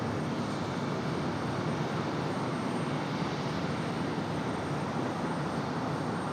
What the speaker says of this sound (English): Delta 1407 up for departure now